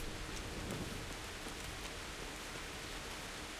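Steady rain falls in the medieval video game Kingdom Come Deliverance, a dense, even hiss of drops on surfaces throughout, fairly soft, with no voices.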